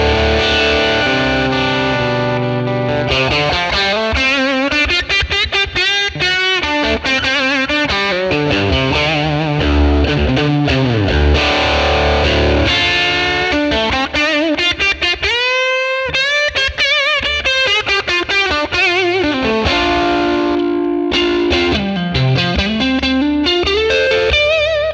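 Electric guitar through a 1957 Tweed Bassman ToneX tone model with reverb added, a loud, continuous distorted phrase of chords, bends and sliding lead lines with a lush, echoing tail.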